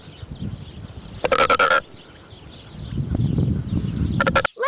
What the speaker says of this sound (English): Secretary bird says,